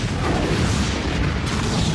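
A nuclear bomb special-effect explosion in a film sounds as a loud, sustained rumbling roar that fills the whole short stretch evenly, dense and close with no talking.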